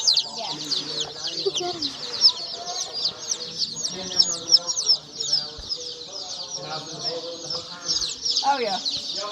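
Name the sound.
chickens clucking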